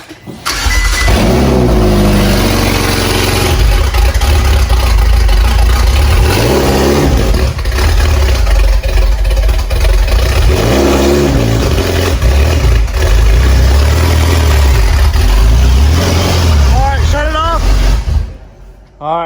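A flood-damaged Ferrari 488 engine cranks and catches, then idles roughly with repeated revs rising and falling, loud and close, with people talking over it.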